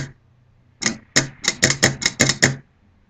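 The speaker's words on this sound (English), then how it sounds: "That's your solenoid working." The solenoid inside a Morimoto H1 projector headlight clicks as power is applied, about ten sharp, close taps in a quick irregular run, surrounded by near silence.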